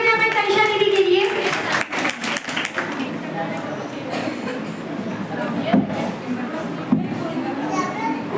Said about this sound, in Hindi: कृपया जोरदार तालियां दें तनिषा दीदी के लिए